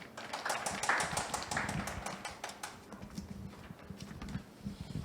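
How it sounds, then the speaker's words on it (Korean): Audience applause greeting a guest at a Korean panel discussion on the platform economy, a steady patter of many hands clapping at moderate level, tapering slightly toward the end. "큰 박수로 환영해 주시기 바랍니다"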